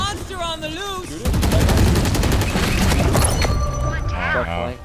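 Rapid automatic weapon fire from the video game Valorant bursts out loudly and continuously after a brief moment of talk, with players' voices heard over the shooting.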